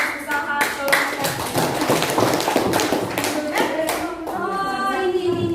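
Classroom applause from students rewarding a group's effort in a social studies lesson, with many hands clapping in a dense, rapid patter that stays loud throughout before thinning out, with voices speaking over the end.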